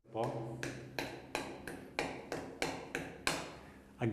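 A screwdriver taps sharply on a primed surface about ten times in a steady rhythm, each knock clear and close with a short ring.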